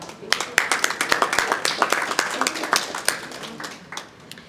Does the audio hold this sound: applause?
yes